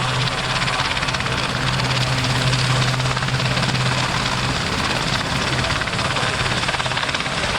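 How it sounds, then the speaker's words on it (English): A twin-engine helicopter powered by two Rolls-Royce Gnome turbines pulls away at an airshow, a loud steady rotor and turbine roar holding throughout with a low droning hum underneath. "The sound as the helicopter pulls away of 2 Rolls-Royce Gnome engines"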